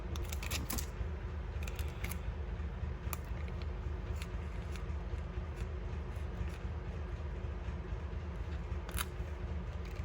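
Scissors snip paper cutouts for decorating a French learning journal, with scattered sharp crisp cuts, some in quick clusters, close against a steady background hiss.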